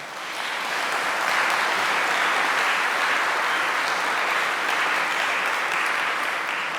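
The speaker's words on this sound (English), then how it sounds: "let's give her a round of applause as well" Sustained audience applause for an award recipient at an oration event, a dense, steady wash of many hands clapping that swells in quickly and holds loud throughout with no talk.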